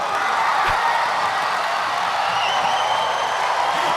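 A large stadium crowd roars continuously from a played game video, a dense, steady wash of cheering that stays loud and unbroken throughout, with no clear talk on top.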